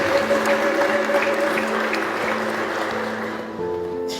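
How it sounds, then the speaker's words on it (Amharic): A crowd at a church funeral for a mother claps in a dense, continuous roar while a high, trilling ululation rises over it at the start, and the applause carries on steadily to the end. "አሁንም እልልታና ጭብጨባ ለኢየሱስ።"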